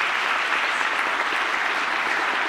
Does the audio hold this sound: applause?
yes